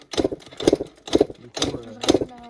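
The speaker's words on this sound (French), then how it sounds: "on galère vraiment à allumer la moto parce que genre elle est bizarre" A motorcycle engine unused for three years cranks in repeated rough, sputtering bursts about twice a second, close by, without catching.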